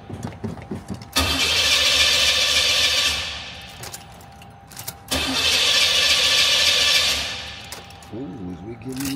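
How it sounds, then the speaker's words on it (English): An old-school fuel-injected car engine cranks in two long starter bursts, each churning for a few seconds before cutting out without catching, with voices talking briefly before and after. "Fuel injector car not starting."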